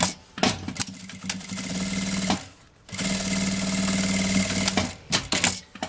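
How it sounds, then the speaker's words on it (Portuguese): Sewing machine stitching along the edge of fabric for a small children's backpack, loud and close, running in two long steady bursts with brief pauses and handling sounds at the ends. "Vou passar uma costura aqui na beiradinha"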